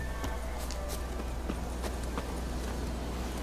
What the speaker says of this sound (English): O cavalo tá perto, vou chamar ele.